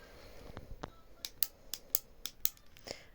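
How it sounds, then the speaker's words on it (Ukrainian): Sharp, dry clicks from a small Oriflame cosmetic pen clicker, about eight of them in an uneven series, close up and fairly quiet. "це такий клікер. Компанія Oriflame теж такий є клікер, ось так клікати."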